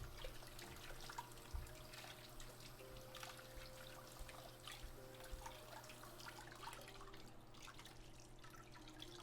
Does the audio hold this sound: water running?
yes